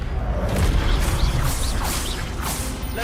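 Expelliarmus spell cast in the Hogwarts Legacy video game, a sustained whooshing magical rush with a low rumble and swirling sweeps, loud and steady throughout.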